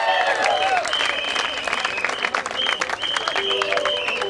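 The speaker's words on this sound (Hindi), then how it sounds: "जोरदार तालियां" Loud, sustained applause from a crowd at a sports league trophy ceremony honouring the champion team, dense clapping throughout with an announcer's voice cutting in over it.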